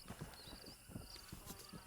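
Faint rhythmic hoof clip-clops in the video game Red Dead Redemption, a horse walking at a steady pace, quiet and somewhat distant, with a thin high tone in the background.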